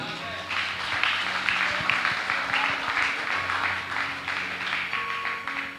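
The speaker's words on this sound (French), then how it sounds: "Applaudis, bon Dieu, l'église." A church congregation applauding during a French-language prayer and worship service, a steady spread of clapping lasting several seconds under a voice that keeps speaking.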